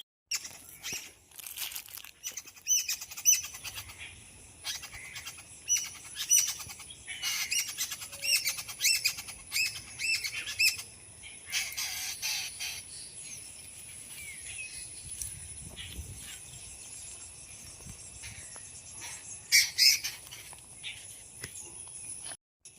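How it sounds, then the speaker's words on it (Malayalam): Birds chirp and squawk repeatedly at a moderate distance from inside a drumstick tree, a busy outdoor chorus of calls with low rumbling background noise and no talking. "അതിൻ്റെ ഉള്ളിൽ നിറയെ കിളികളോ"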